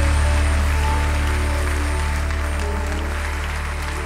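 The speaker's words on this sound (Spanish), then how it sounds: "Fuerte el aplauso" A church congregation applauds, giving a broad, continuous wash of clapping from a large crowd that sounds like steady rain, loud and sustained and fading slightly toward the end.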